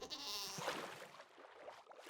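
A goat in the video game Minecraft lets out a single wavering bleat, close and clear, followed by a brief low rustle.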